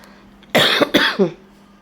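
A person with a lingering cough coughs three times in quick succession, close and fairly loud, with quiet background otherwise.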